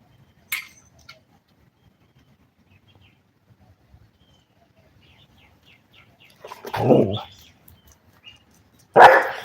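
A dog barks in a couple of short, loud bursts late on, with a faint earlier yelp and quiet outdoor background between them.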